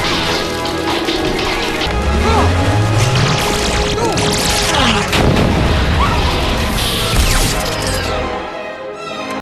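A Disney Channel Halloween film scene where a witch is shot at until she blows up: dense, loud crashes, whip-like cracks and a booming blast over a busy soundtrack, fading near the end.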